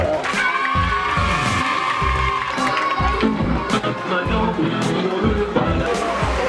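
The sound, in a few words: audience ovation and cheering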